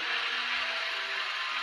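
A faucet valve mechanism turns in the video game Sphinx and the Cursed Mummy, giving a steady ratcheting, gear-like mechanical whir that runs unbroken and fairly loud for the whole short stretch, with no voices over it.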